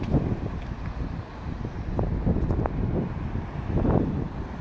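Wind blows hard along Alderney street in downtown Dartmouth, a steady low rumbling buffet that swells and eases across the microphone, with no voices.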